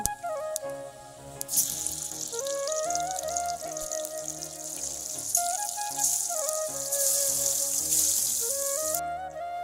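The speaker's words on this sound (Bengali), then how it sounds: "কড়াই গরম হয়ে গেছে, তেল দিয়ে দিচ্ছি। এখন মাছগুলো ভেজে নেব।" Catla fish fry in hot oil in a kadai, giving a steady hissing sizzle that runs throughout beneath louder background music.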